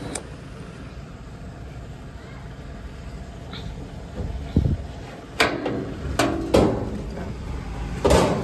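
The door of a Honda TMX Supremo tricycle sidecar is handled, giving several sharp knocks and bangs in the second half over a quiet background.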